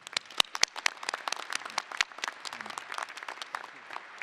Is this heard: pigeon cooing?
no